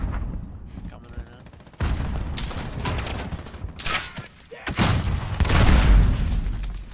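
A grenade explosion in Call of Duty: Modern Warfare (2019) bursts in as a loud, deep boom amid gunfire clatter and other game noise, with a voice speaking over the action.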